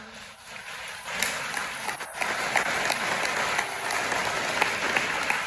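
Audience applause during a presentation, a dense, even patter of many hands clapping that swells slightly after the first second and holds steady.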